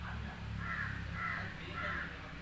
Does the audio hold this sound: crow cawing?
yes